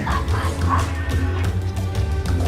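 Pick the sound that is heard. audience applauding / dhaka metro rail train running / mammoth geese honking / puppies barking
puppies barking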